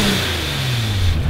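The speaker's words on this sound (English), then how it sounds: "The revving needs to stop." A Nissan GTR's engine revs loudly and close, a sustained rising roar that swells over about a second and a half with no talking.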